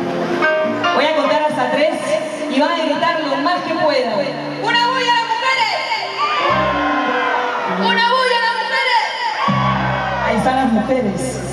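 Women in the audience at a live criollo music serenade shout and whoop loudly, their cries blending with a crowd over continuous band music and a singing voice.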